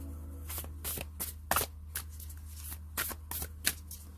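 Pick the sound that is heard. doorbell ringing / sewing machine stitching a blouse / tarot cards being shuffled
tarot cards being shuffled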